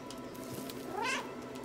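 A single plaintive meow from the cat in the video game Stray, fairly close and rising then falling, over a steady hum of ambient game sound.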